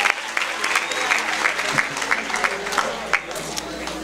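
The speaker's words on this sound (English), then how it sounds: "Let's give everyone a big round of applause." An audience applauds at an Archon Society induction ceremony, a steady wash of clapping across the whole stretch with a few sharper individual claps popping out.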